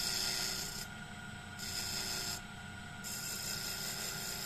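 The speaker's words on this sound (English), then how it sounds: "See, I'm just using the point of the parting tool." A parting tool's point touching up spinning wood on a lathe makes a close, steady rasping scrape that swells and eases in short bursts, with no talking.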